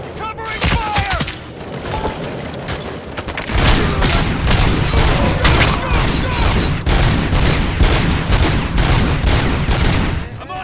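Dense, continuous gunfire from the shooter game RoboCop: Rogue City, loud overlapping bursts and impacts that swell partway through, with soldiers shouting in the middle of the battle.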